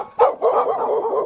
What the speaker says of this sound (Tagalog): Nagulat sila nang may biglang lumapit na aso na tila galit na galit sa lalaki.